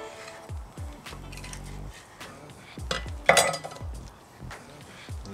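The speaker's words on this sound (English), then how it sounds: "just with a sharp knife, make an incision until you get down to the bone, and just cut down through." A sharp knife cuts through raw chicken down to the bone while spatchcocking, a close series of irregular knocks, taps and scrapes against a board, with a louder clatter midway and no talking.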